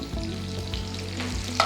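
Onions and two or three slit green chillies frying in a pan for beef chops, a loud close crackling sizzle with stirring thumps, ending in a sharp clatter.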